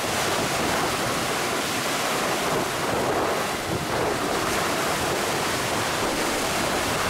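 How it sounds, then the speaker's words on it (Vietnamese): Strong ocean waves churn about 3 km from a harbor, heard from a small fishing boat heading in ahead of a big storm, as a loud, continuous roaring wash with heavy wind buffeting the microphone throughout and no speech. "Bây giờ sóng cũng rất là mạnh nha."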